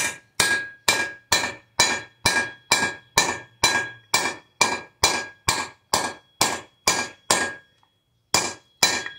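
Steel hammer pounding a socket to drive a part into place on a Mk2 Volkswagen Golf, about sixteen sharp, evenly spaced ringing blows close up, a short pause, then two more strikes.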